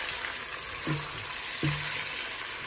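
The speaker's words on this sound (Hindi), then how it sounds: "हमारा मीट ये इसमें चला जाएगा तो हमें अच्छे से भूनना है फ्राई करना है अपनी प्याज के साथ" Beef fries with onions in a pot for Bombay biryani, giving a steady close sizzle broken by two distinct scraping stirs of a spoon.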